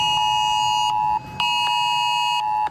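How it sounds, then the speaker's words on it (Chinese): Mobile phone emergency alert alarms sounding during a citywide air raid drill in northern Taiwan, a loud steady electronic tone with pulsing beeps, a brief gap, then several phones blaring together. "手机警报声大作"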